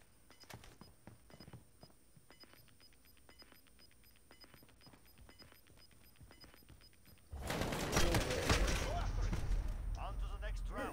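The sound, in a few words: gunfire in a video game duo tournament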